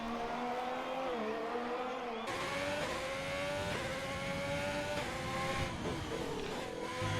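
Race car engine in a racing video game, set on a Canadian circuit, revving hard through a hot lap with rising and falling gear pitch, sharp upshifts and a shift at about two seconds, loud and continuous with no talk.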